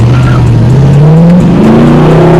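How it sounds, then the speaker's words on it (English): A 1966 Chevelle Pro Touring with a 350 V8 revs hard while its tires spin briefly. The engine note is loud and close and climbs steadily in pitch. "It'll spin the tires just a little bit."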